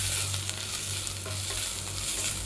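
Ginger garlic paste fries in a pan with a steady, close sizzle, while a utensil stirs it with soft scraping strokes.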